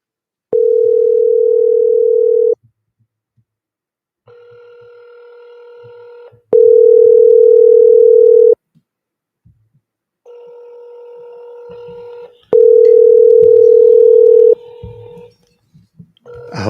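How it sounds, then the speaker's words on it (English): Outgoing phone calls ring in alternating long steady tones, one louder single tone and one softer layered ring repeating in slow turns, with no talk over them. "I want him to hear the phones ringing in the background."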